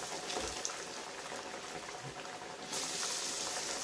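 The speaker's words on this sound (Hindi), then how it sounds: "तो इस तरह से हम इसको डाल देते हैं तेल में।" Dal pakoras in hot mustard oil frying with a loud, steady bubbling sizzle that swells brighter and louder partway through as more batter goes in, with no talk over it.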